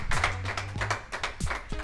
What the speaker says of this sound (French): Ça mérite des applaudissements, je pense,